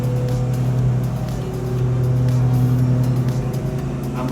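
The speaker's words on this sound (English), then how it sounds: "wait till the lawn tractor goes by" A lawn tractor drives past outdoors near a patio. Its engine gives a steady, rumbling drone that holds level for the whole stretch, fairly close, with no talking over it.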